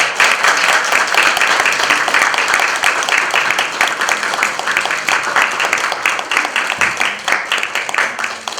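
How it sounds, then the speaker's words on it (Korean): A crowd at a political party's candidate announcement event claps steadily and loudly for several seconds, dense sustained applause from many hands with no talking. "서로 고생하셨다라는 서로 격려의 박수 한번 치고"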